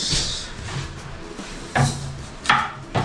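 An onion is chopped on a board, a few sharp knife strikes spaced unevenly after a quiet start, close and clear with faint kitchen background and no talk.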